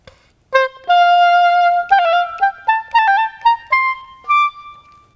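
An oboe plays a short melodic line from Mozart's Sonata No. 30 in F Major, K. 370, with quick slashed grace notes before several notes, each phrase clear and close, no talking.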